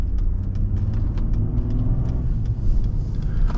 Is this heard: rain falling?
no